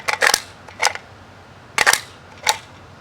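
Steel surplus magazine clicking into a Riley Defense AK rifle: a few sharp, close metallic clacks spaced across the moment, no talk.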